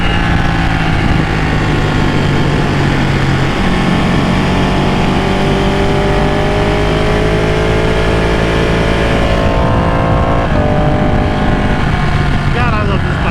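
A Ducati 899 sport motorcycle engine drones loud and steady while riding, with a continuous, close engine tone that shifts pitch as it changes gear.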